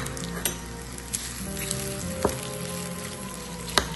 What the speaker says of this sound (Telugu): కొంచెం తాలింపు వేసుకున్నాను